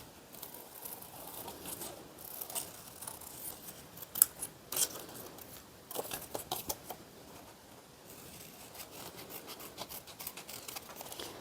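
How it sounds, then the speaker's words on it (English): Scissors snip again and again while cutting paper hearts for Valentine crafts, with close, crisp, irregular cuts and paper rustling in between and no talking. "I'm gonna cut these out."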